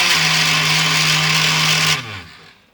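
A SABA electric knife sharpener grinds against a screwdriver with a loud, steady motor hum and gritty rasp for about two seconds, then the motor winds down and fades out.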